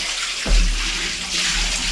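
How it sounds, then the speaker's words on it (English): Water pours from a tap into a tub to rinse hand-washed laundry in a tiny home, a loud continuous rushing splash close up with a brief surge near the start. "So right now we're just putting some water back in there"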